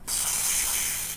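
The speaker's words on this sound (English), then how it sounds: "I can spray this right here, but I'm not impacted." A canister of irritant spray is discharged in one short, sharp burst, a loud, close hiss that cuts in abruptly, holds steady for about a second and stops.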